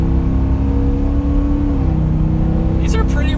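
A 2021 Ford F-150 XLT pickup accelerating hard in third gear, a steady loud engine drone and road roar from inside the cab, with a brief higher whine near the end.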